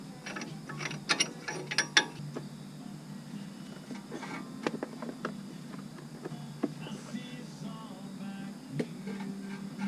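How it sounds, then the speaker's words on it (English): A tool compresses the brake caliper pistons on a 2011 Ford Explorer during a front brake job, giving quiet, irregular ratcheting clicks and metallic ticks over a low background hum, close by and soft. "We're going to compress them both and turn them all the way down until you can't turn it anymore."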